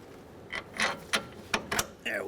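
Metal bolt pushed and tapped through the strut and steering knuckle of a 2003-2011 Honda Element, a few short sharp clicks and scrapes spaced unevenly, close by.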